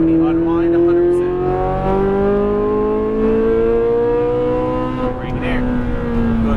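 Ferrari 458 Italia engine under throttle on a track, a loud close rising rev that holds steady, dips briefly and climbs again, with a voice talking over it.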